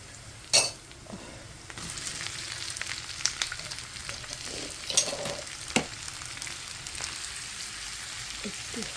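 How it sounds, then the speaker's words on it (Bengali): Prawns frying with turmeric in a pan, a steady sizzle with occasional clinks and stirring scrapes, no talking. "একটু হলুদ, চিংড়ি মাছটা ফ্রাই করব"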